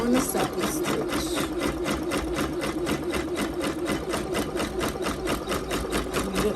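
A Janome MB7 embroidery machine sews a satin stitch on a T-shirt held in an 8x9 hoop. It runs at close range with a fast, even needle rhythm that holds steady throughout, and no one speaks.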